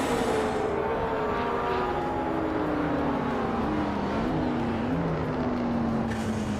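Racing engines at Laguna Seca in a video game, led by a 2019 SSC Tuatara supercar, a steady high engine drone that slowly falls in pitch as the car pulls away, with a brief shift midway.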